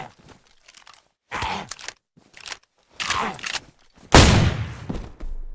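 Shotgun blasts loaded with buckshot in DayZ, several loud separate booms spaced about a second apart, the last the heaviest, with quieter shuffling and rustling between them and no talk.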